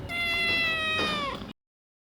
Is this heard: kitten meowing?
yes